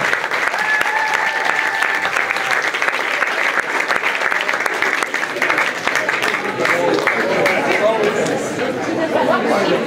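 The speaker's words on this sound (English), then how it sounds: "let's give it up for Matt Gonzalez." Applause from an audience at a high school college signing event fills the room, dense and sustained for about ten seconds, with crowd chatter mixed into the clapping throughout.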